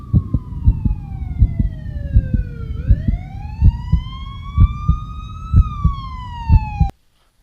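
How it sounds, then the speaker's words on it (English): A police siren wails with a sweeping pitch that dips and rises, over a steady pulsing beat, loud and close, then cuts off abruptly. "those are just simple sound effect of police sirens that I got off the internet somewhere"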